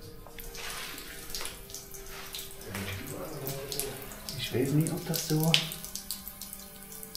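Water running from a fire hose in an abandoned hotel, a gushing, splashing flow that grows louder midway, heard under a person talking.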